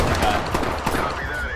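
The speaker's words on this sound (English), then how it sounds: "Where's the gunshot?" Gunfire in the tactical shooter Ready Or Not during a drug-house raid: a dense burst of rapid shots crackling under excited player chatter, with a steady wash of noise throughout.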